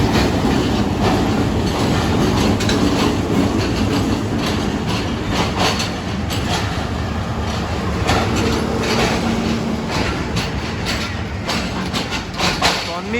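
Rawalpindi passenger train running with a Hazara Express rake of economy-class coaches, steady loud rumble and rail clatter throughout with a continuous broadband roar and intermittent clicks, heard from on board between Taxila and Havelian.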